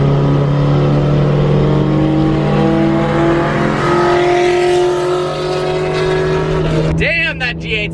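A Pontiac G8 revs past close by, its engine note climbing and shifting across several seconds before a sharp change near the end, with voices and other car noise mixed in.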